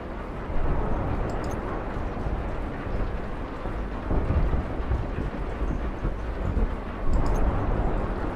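A thunderstorm in the video game Kentucky Route Zero brings steady heavy rain and a low, rolling rumble of thunder. The roar stays dense and loud, and the thunder swells a few times. No voices can be heard.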